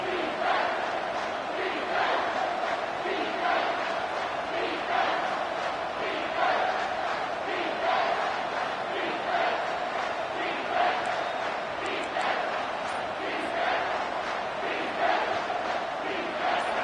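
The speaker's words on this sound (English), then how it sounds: "with this place rocking, the crowd forces a false start." A huge football stadium crowd roars without pause at a UT versus Kansas game, a dense, loud, sustained wall of yelling and cheering before a third-down snap, with no clear single voice standing out.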